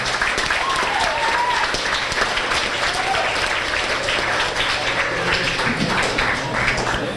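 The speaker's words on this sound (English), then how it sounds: "So how about a nice round of applause?" A room of guests at a high school spring sports banquet claps in a steady, fairly loud round of applause, with faint voices mixed in.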